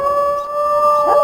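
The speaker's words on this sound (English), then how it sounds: "Let's go ahead and do some howling as well." A wolf howls in the video game WolfQuest, one sustained steady tone held at even pitch for the whole stretch, loud and close with no talk over it.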